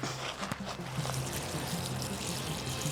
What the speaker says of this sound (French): On va arroser les tomates.